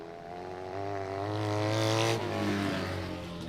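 A Kawasaki motorcycle racing engine at a bikes-and-quads dirt track event, a loud, steady high-revving drone that swells as it passes close, then drops slightly in pitch as it moves on.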